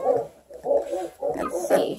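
Two-week-old Redtick and Black & Tan coonhound cross puppies whimper and yip in four close, rhythmic bursts, loud and plaintive.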